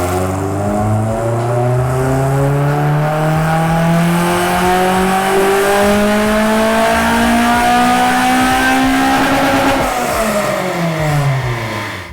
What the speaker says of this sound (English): doing another run just to see what it's at without the bung